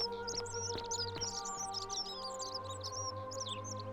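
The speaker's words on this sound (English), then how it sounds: "Listen to the birds. Beautiful." Birds chirping in the video game The Forgotten City, many quick high tweets and calls layered over a steady, faint ambient hum.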